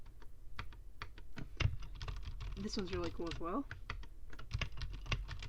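Close, rapid clicking of keys on an RK61 Royal Kludge mechanical keyboard, a quick irregular patter that carries on beneath a brief stretch of talking.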